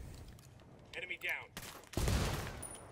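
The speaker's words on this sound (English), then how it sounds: "There's another box here. I'm gonna shoot it." Gunfire in the video game Ghost Recon Wildlands as a player shoots a box, a loud burst of shots that rises into a sustained roar after a brief gap.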